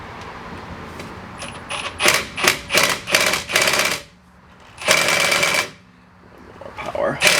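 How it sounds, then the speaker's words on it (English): Power tool, likely an impact driver, backing screws out of a 2011-2015 Hyundai Elantra brake assembly, firing in a quick string of short rattling bursts, then a pause and one longer loud burst, with a brief spurt at the end. "I'm going to pop these screws out."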